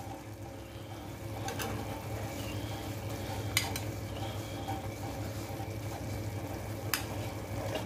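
Potatoes and fenugreek leaves fry in a pan with a steady low sizzle, broken by a few sharp scrapes or taps of a spatula against the pan.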